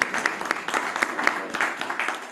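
A crowd at a networking event for introverts applauds Jessica, with steady, fairly loud clapping and distinct individual claps standing out throughout.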